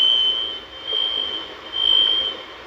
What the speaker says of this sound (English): The sound of smoke alarms disconnected.